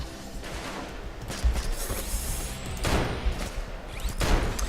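Gunfire rings out in the Payday 2 biker heist, bursts of rapid shots at about 1.5, 3 and 4.3 seconds over a busy, noisy game background.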